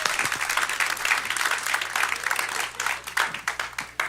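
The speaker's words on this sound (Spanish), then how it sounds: "Un aplauso para la pastora." Church congregation applauding a female pastor during a service, a dense, steady round of clapping from many hands in a hall, fairly close, with a few louder individual claps near the end.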